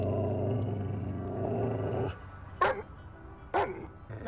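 Dog in a TV episode gives a low, rumbling growl for about two seconds, then two sharp, separate barks spaced about a second apart.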